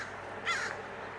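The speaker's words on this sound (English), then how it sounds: "we've got 2 crows up in the tree branch" Crows perched on a tree branch give a single short, faint caw against quiet outdoor background.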